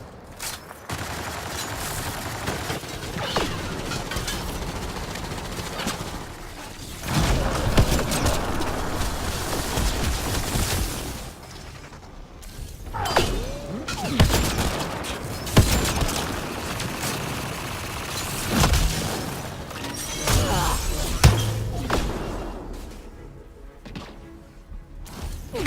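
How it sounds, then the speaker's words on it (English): Gunfire during a firefight in the video game Mass Effect: Andromeda, with dense bursts of shots, booms and thuds that keep going without a break and swell and fade in waves over a noisy mix of game audio. "Let's see if the cloak stops gunfire."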